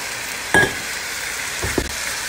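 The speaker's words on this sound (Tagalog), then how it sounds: "lutuin na natin siya sa kawali" Shrimp for fajitas cooks over high heat in a pan, a steady sizzle with two short bursts of stirring and scraping, no talk.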